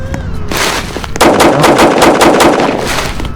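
Rapid gunfire in a Roblox hood roleplay game, a burst of loud, closely spaced shots ringing out near and continuous for a few seconds.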